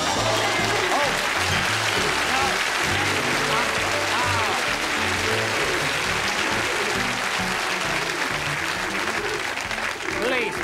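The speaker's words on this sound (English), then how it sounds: "don't applaud because I missed" Studio audience applause on a 1975 British television variety show fills the whole stretch, a continuous wash of clapping with music and voices mixed in underneath.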